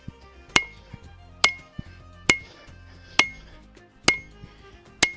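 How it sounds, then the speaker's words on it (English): A hand hammer strikes hot steel on an anvil while a Viking war axe is forged, six sharp ringing blows at a steady interval of about one per second, close and loud, with faint lighter taps between. "I'm using the corner of my hammer, kind of like a cross peen almost"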